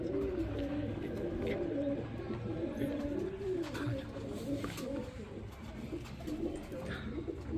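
Pigeons bought from a Karachi net trapper coo in rolling, repeated phrases close by, a steady murmuring call over a low background hum with no speech.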